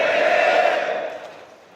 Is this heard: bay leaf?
no